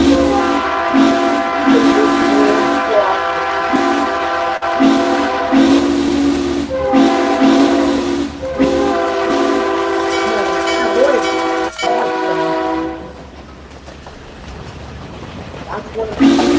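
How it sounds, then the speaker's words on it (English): SC9 locomotive in a Roblox railway game rolling past with repeated long horn blasts and rumbling wheels, fairly loud, fading near the end, with a voice talking over it. "One of the remaining SC9 locomotives."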